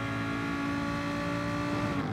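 Lamborghini race car engines in Gran Turismo Sport roar loudly and steadily throughout, a sustained high-revving drone with no talk over it.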